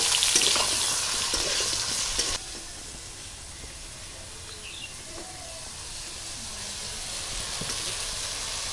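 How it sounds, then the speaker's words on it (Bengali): Brinjal pieces seasoned with salt and turmeric fry in oil in a kadai, giving a steady hiss and sizzle that is louder for the first couple of seconds, then settles into a softer, even crackle. "এবার বেগুনগুলো ভেজে নেব।"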